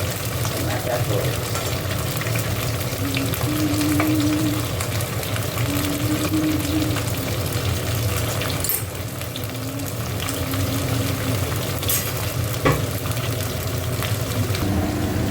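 Cauliflower frying in a pan for khichuri, a steady close sizzle running continuously without pause, with faint clatter now and then.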